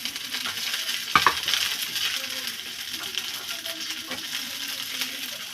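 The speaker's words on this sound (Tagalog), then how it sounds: "Gisa tayo ng bawang. Sibuyas, isama ko na siya." Garlic and onion are sautéed in chili oil, giving a steady close sizzle with a sharp metallic clink of a utensil near the start and light stirring scrapes throughout.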